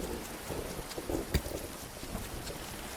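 Steady rain in the Grimshire farming game, a continuous dense hiss with a brief sharp patter spike, no voices.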